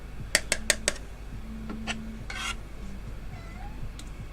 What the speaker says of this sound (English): Just my cat coming through.